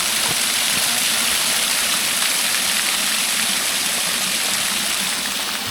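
Water rushes down a small stream on Madeira, a loud, steady, close gushing hiss with no break.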